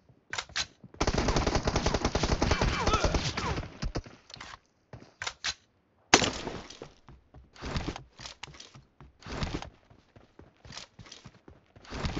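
M416 assault rifle firing in a mobile battle-royale shooter, set to single-shot mode: loud, rapid close-range shots in a dense burst, then scattered shorter volleys and bursts with brief gaps between them.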